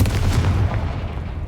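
A Confringo fire spell in a video game lands as a short, heavy blast with a deep booming thud up front that quickly decays into a rumbling tail, all within about a second and a half.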